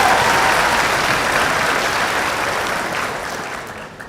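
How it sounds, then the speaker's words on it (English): Audience applause at a white coat ceremony in a university hall: dense, loud clapping from a large crowd, sustained throughout and gradually tapering off near the end. "A round of applause for her."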